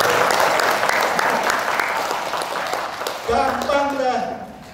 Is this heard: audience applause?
yes